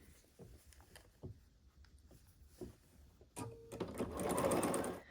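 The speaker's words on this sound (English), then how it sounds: "I'm just going to sew it on to this part of the flag" A home sewing machine stitches a fabric strip onto a patchwork flag placemat, starting up partway through as a steady, close whirring run that builds in loudness, after quieter handling noises.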